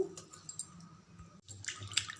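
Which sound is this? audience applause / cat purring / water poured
water poured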